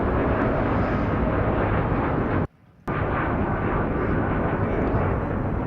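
Loud, broadband roar of a Boeing 787 Dreamliner jet passing close overhead at LAX, steady and heavy, broken by a brief gap of near-silence partway through before the rumble resumes.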